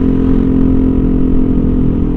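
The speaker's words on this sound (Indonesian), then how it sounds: "Oke, mungkin itu sekilas knalpot yang sudah saya pasang" A Yamaha NMAX 155 scooter fitted with a TZM racing exhaust runs at a steady idle. Its loud, deep, throbbing drone stays even and close throughout.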